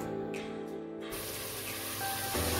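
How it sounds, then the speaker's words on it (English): Leek sizzles and crackles in a hot pan, a steady frying hiss with no voices. "I just put in some leek there and just frying it off."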